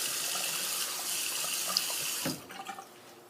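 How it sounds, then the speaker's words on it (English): A faucet runs steadily into a sink while someone washes their face, then the flow cuts off abruptly, leaving a few small splashes and drips. "let me just wash my face off"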